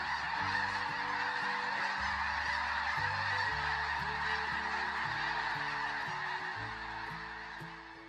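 A flock of wild geese, pest birds on American farmland, honks continuously, dense and overlapping calls close and loud for the whole stretch, easing slightly toward the end.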